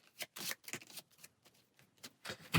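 Playing cards from a Marvel Champions card game get shuffled close up, a run of quick riffling and sliding bursts in an uneven rhythm, quiet and alone.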